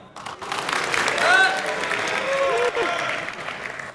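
A crowd at a university Sumobots robot-fighting final cheers and claps for a team on cue, the noise swelling quickly to a loud peak with shouts and whistles, then holding before easing off.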